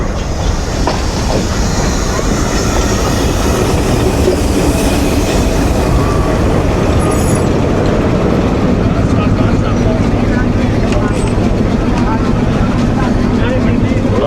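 Millat Express passenger rake with locomotive PH 28321 attached at the lead, heard as steady loud rail noise with rolling clatter throughout, and people talking nearby.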